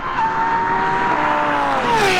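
An Audi TT RS and a Lamborghini Revuelto, both four-wheel drive, finish a roll race at full throttle, engines sustaining a loud, steady high-revving whine that dips in pitch toward the end, with no talk.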